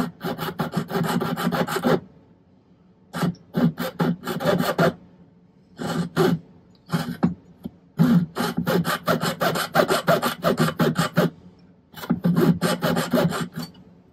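A jeweller's saw cuts silver wire for a hoop earring against a notched bench pin, giving a steady rasping back-and-forth in several bursts with short pauses between strokes.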